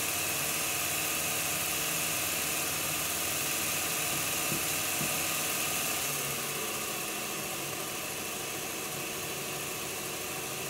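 Motor of an Accurascale Class 55 Deltic model locomotive runs steadily, a constant close hum with a smooth mechanical drone and no break across the stretch, easing slightly in the latter part.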